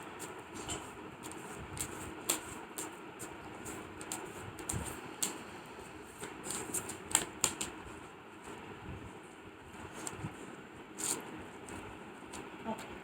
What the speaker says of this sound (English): first I change my card and then I shuffle them.